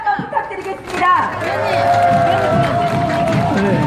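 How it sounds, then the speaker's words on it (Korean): Crowd clapping and cheering at an outdoor election campaign rally in front of Yeongdeungpo Station, Seoul, a loud sustained wash of applause with a speaker's amplified voice running over it. "우리 공영세 영등포 당협위원장님께 큰 박수 한번 부탁드리겠습니다"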